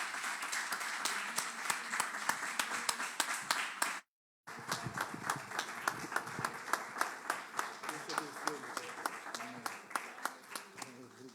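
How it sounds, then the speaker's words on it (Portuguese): A church congregation claps in a steady rhythm, the sharp, evenly spaced claps continuing almost throughout, with a voice audible over them. "Vamos aplaudir o Senhor."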